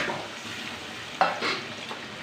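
Ginger, garlic and spices frying in a generous amount of oil in a pan, a steady soft sizzle with a few stirring scrapes and one sharper clatter partway through; no talking.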